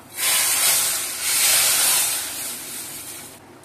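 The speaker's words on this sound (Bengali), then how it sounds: "এবার আমি তরকারিতে ঢেলে দিচ্ছি।" Fried tempering poured into a pan of eggplant curry, giving a loud, steady sizzling hiss that swells twice and then tapers off near the end, with no talking.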